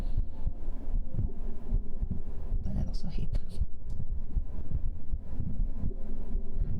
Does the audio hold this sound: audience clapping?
no